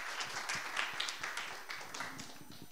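Faint audience applause at a children's project family day talk, a soft, steady patter of many hands clapping, somewhat distant and without voices on top.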